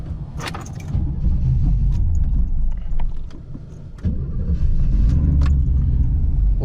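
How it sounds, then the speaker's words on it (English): A third-generation Camaro being driven while cold, its engine rumbling loudly and then faltering and stalling, with low rough surges, clicks and a brief drop before the rumble returns. "Oh no, the car stalled."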